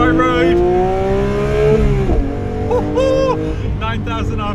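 A 2022 Porsche 992 GT3 Touring with a manual gearbox, engine screaming up toward 9,000 RPM, a loud, sustained rising wail that dips at a gear change and climbs again, heard from inside the car with a voice over it.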